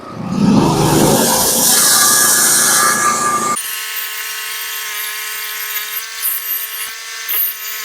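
A saw cuts through wood on a sawmill, a loud rough grinding for about three and a half seconds before the cut ends and the motor keeps running with a steady whine.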